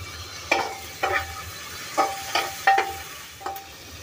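Onion sautéing in tempering oil with curry leaves for dal khichdi, tomato going in, heard as a soft background sizzle broken by six sharp stirring scrapes at a steady, unhurried rhythm.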